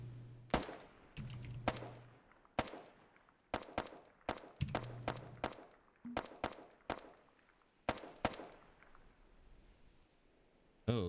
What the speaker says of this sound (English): we do have our first shots